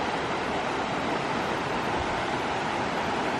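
Steady broadband rush of a river current flowing along a trail, a continuous washing hiss with no breaks and no voices, fairly close and even in level throughout.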